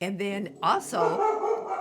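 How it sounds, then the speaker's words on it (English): A dog barks and yips close by, a few short bursts mixed in with someone talking over it. "that's my dog"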